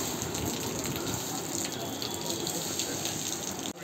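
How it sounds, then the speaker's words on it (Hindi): Steady rain falls at a market at night, a dense, even hiss of water that holds at moderate level throughout without pause, with no voices over it. "तो यहाँ पानी गिर रहा है"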